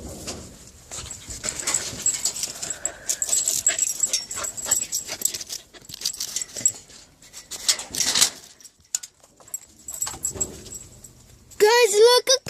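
A dog makes short wheezing, whimpering and panting sounds close by, scattered through a noisy indoor scene with people talking over it, ending in a brief high squeaky burst.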